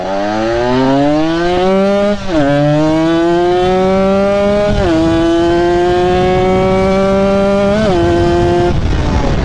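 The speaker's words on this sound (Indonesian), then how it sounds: "Apalagi ini motor ZX ya" A Kawasaki ZX motorcycle engine revs loud and close, holding high RPM in long sustained pulls with brief dips between them and no talk over it.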